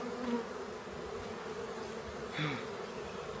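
Honey bees buzz around an open hive in an apiary during an inspection, a steady close drone with individual bees swelling louder as they pass near.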